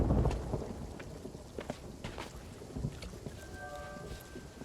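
Thunder rumbles over steady rain in a stormy sea setting in Sea of Thieves, with a deep low roll near the start and patter throughout. A faint tonal hum enters near the end.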